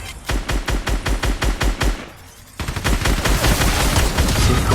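Minigun fire in the video game Fortnite, a loud rapid stream of evenly spaced heavy shots, briefly pausing before resuming as a denser continuous burst.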